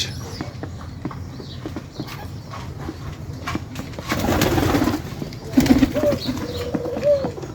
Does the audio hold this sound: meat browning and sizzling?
no